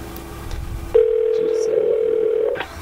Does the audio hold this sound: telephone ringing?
yes